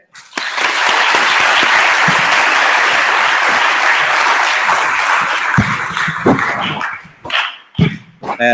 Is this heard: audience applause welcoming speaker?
yes